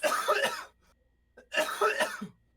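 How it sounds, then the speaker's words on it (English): Two short bursts of coughing, rough and throaty, close to the microphone, separated by a brief silent pause. "Sorry, I'm coughing."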